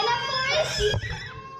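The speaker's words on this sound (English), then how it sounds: "you pick her up and she starts to scream" A young girl screams and cries after being picked up, a short, loud burst of wailing close by, ending in a sob.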